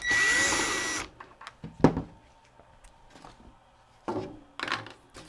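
A power screwdriver whirs for about a second, backing a screw out of the top cover of a Magnavox VCR, followed by scattered clicks, light handling knocks and a second short burst of driver noise.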